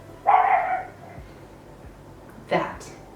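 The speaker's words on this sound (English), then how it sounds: "That little bark there is the only downside to living here. That little dog next door." A small dog next door barks twice, a sharp yap followed by a shorter one a couple of seconds later, at moderate distance over a quiet background.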